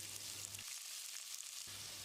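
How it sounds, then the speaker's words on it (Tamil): About 200 g of finely chopped big onions with a little fennel seed and curry leaves sizzle and fry steadily in coconut oil, with a soft continuous crackle heard up close. "வெங்காயத்தை செவந்து வர்ற அளவுக்கு வதக்கிடலாம்."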